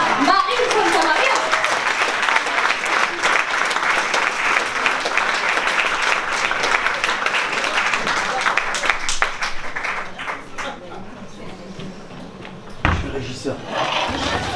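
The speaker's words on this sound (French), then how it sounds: "sous un océan d'applaudissements" Audience applause for a singer at an October Rose special evening show, loud dense clapping filling about ten seconds before thinning out, with voices talking over the tail.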